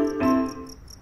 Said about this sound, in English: Did you hear the crickets?